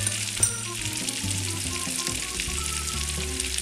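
Carrots seasoned with salt and pepper sizzle in a hot pan with a continuous bright crackle. A faint clink of utensils comes early, and no one speaks.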